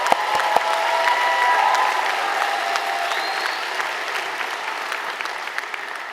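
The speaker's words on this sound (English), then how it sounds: "Let's clap that up." An audience at a nursing school commencement claps, and the sustained applause starts strong and then slowly thins out, with no speech over it.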